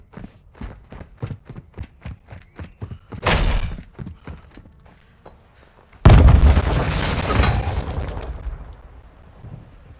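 A charge detonates in a Call of Duty Modern Warfare search-and-destroy match: a loud, sudden explosive boom with a long rumbling tail, following a rapid run of regular clicks and a short earlier blast.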